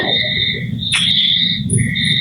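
Steady, high-pitched trilling of crickets close by at dusk, continuous pulsing chirps layered over a low background hum.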